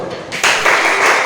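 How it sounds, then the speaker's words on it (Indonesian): Students in a high school classroom break into applause, a sudden burst of many hands clapping that starts after a brief pause and continues steadily and fairly loud to the end. "tepuk tangan dulu"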